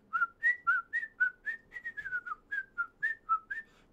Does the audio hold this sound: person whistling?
yes